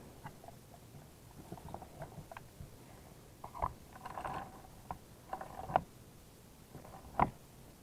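A hand wrench tightening the nut that holds the blade on a stick edger, heard as faint, close ratcheting clicks and small metallic taps in irregular bursts, with quiet pauses between them.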